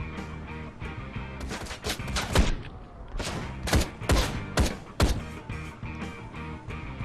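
Gunfire in the video game Ride To Hell Retribution: a loud barrage of close gunshots in irregular bursts, some single cracks and some rapid clusters, with heavy thuds between them.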